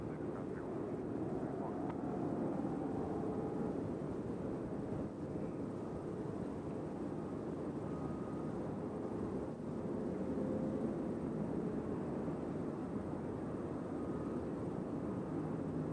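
A B-29 bomber at Nashville International Airport gives off a steady, low, rumbling engine drone heard from a distance, continuous and unchanging, with wind buffeting the microphone.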